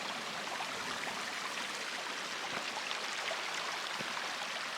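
Fire Creek, a mountain stream along the Pacific Crest Trail, flows with a steady, close rushing wash of water that holds at an even level throughout, with no voices.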